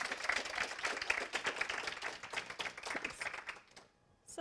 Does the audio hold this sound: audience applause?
yes